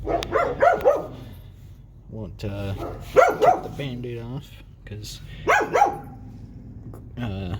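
Neighbor's dogs bark in a few short repeated bursts under steady close talk, with a lull between the outbursts.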